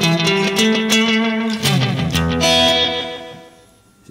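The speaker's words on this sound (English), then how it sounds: "That's a great slapback sound right there" Roland RE-150 Space Echo tape unit adding warm slapback echo to a played instrument at fast tape speed, sustained harmonic notes with repeating echoes and a slight distorted saturation, steady and loud before tailing off near the end.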